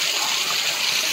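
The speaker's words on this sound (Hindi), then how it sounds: "देखु झरणार पानी पूरा ऊपर केमी आस आहरी" Waterfall water pouring steadily, a loud, dense rushing wash with no breaks, close by and alone.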